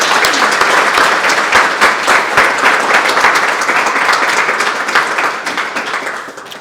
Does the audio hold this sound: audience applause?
yes